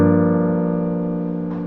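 A piano chord voiced as root and seventh in the left hand rings out once and sustains, decaying evenly and heard up close with nothing else.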